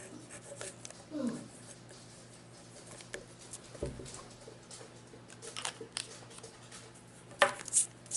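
A Conklin Duragraph or Nighthawk fountain pen, inked with Noodler Hudson Blue, writes on paper with faint, close scratchy strokes. Occasional taps and handling noises break in now and then.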